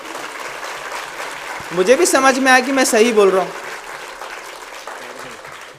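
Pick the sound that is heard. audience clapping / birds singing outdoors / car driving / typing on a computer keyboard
audience clapping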